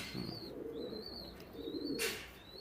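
Soft, repeated pigeon coos close by, with a brief flutter or rustle near the end and no talking.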